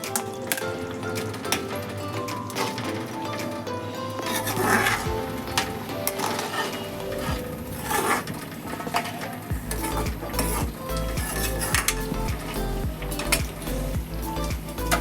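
Cubes of paneer go into a boiling, spicy Kolhapuri-style gravy in a pan and get stirred, giving a steady bubbling simmer with soft spoon scrapes and occasional clinks, with faint music-like tones underneath.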